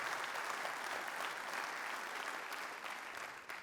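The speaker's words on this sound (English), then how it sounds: "You can go ahead and clap for that." A summit audience applauds during an opening plenary on sport, dense sustained clapping that holds steady, then tapers slightly near the end.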